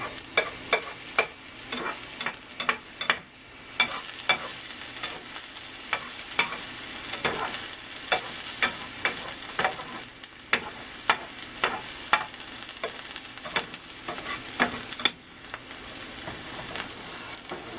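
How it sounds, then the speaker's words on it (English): Eggs stirred in a frying pan for a breakfast burrito with sausage and kale, a steady soft sizzle broken by repeated sharp scrapes and taps of the utensil against the pan, close and clear with no talk. "Move my eggs around a little bit because I want to make sure they cook good."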